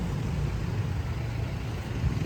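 Steady low rumble of traffic with idling engines at an intersection in Cavite, continuous and fairly quiet with no voices.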